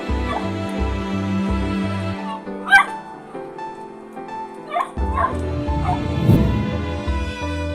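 An injured puppy whimpering and yipping in short high cries and soft whines, close and clear, over a steady pulsing music bed.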